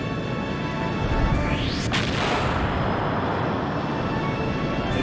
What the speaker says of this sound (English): The G-Tank cannon also.